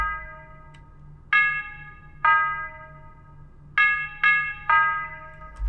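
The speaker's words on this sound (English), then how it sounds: "these bells, these tubular bells, are in like every Flint beat, Detroit beat" Tubular bells sample from the Third Eye drum kit, played in FL Studio for a Flint-style beat: six clear, ringing strikes in a repeating pattern, each decaying slowly over a quiet low hum.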